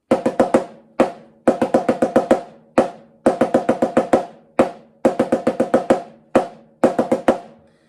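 Crisp snare drum played in quick single-stroke bursts, repeating groups separated by short pauses, close and steady, with no voices.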